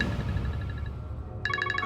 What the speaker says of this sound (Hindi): वीर का फोन।